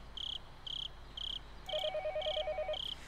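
A telephone rings in the Higurashi visual novel game with evenly spaced electronic trills. A second warbling ring tone joins partway through under quiet insect-like chirping, and the ringing stays soft and steady.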